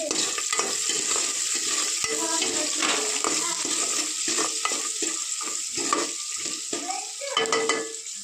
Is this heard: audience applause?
no